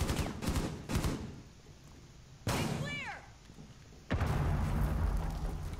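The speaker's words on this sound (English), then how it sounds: "They're shooting at you from stairs." Gunfire in a Rainbow Six Siege team deathmatch match on the Oregon map, with a few sharp bursts at the start, a louder shot cluster mid-clip with a falling ringing tail, then steady noisy game ambience and some talk.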